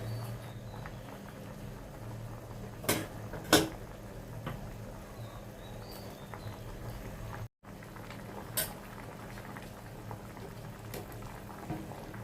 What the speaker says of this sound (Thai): เดี๋ยวต้มอีกแป๊บหนึ่งนะคะ